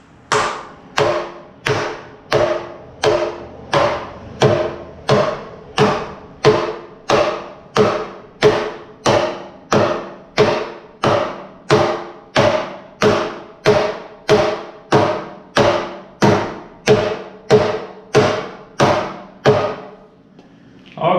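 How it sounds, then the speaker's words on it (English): Dead blow hammer beating parts onto a 1974 Chevy C30 dually, about two dozen evenly spaced heavy thuds in a steady rhythm, loud and close, with no talking. "I just beat them on with a dead blow hammer."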